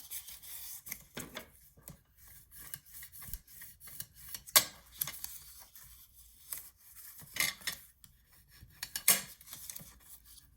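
Scored paper being folded by hand for a small chocolate box treat holder: a run of dry rubbing, creasing swipes and crisp crackles at irregular intervals, close and fairly quiet, with no talk.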